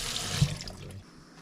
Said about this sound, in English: So rinse your cockles in fresh water using a sieve or a colander.